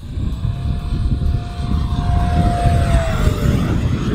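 An E-Flite Viper 70mm electric ducted-fan RC jet flying past fast, its steady high whine gliding slightly in pitch as it passes, loud and near, with wind rumble underneath.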